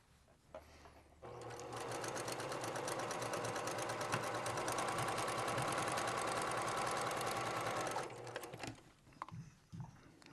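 A sewing machine stitches a lined zipper pouch in one sustained run, a fast, even, buzzing whir that starts abruptly and stops after several seconds, with faint handling sounds before and after.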